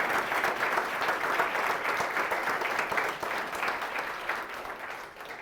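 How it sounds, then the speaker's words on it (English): Audience applause for three Impactful Educator finalists at a Connecticut impact awards ceremony: a dense, steady wash of many hands clapping throughout, slowly tapering off toward the end, with no voices over it. "please give a round of applause for our 3 Impactful Educator finalists"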